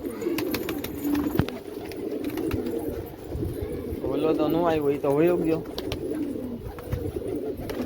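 Pigeons coo in a low, rolling warble midway through, under a person talking nearby against faint outdoor background noise.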